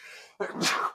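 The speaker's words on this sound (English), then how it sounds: "there's that sneeze you were working on earlier" One sneeze, close and sharp. A short inhale is followed by a burst of the explosive sneeze.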